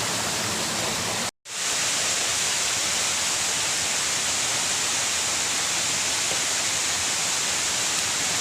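A waterfall roars as a steady, loud, broadband rush, broken by a brief dropout early on, with no voices over it.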